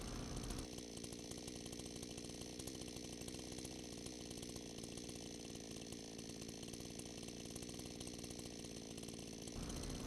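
Chainsaw running continuously while demolishing an old structure in rainy Niigata, a loud, steady engine drone with a constant dense roar throughout and no speech.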